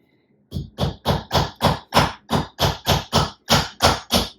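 Rapid series of about fourteen sharp, evenly spaced blows driving a side nail into a wooden frame, each strike loud and close with a brief ring, no talking between hits.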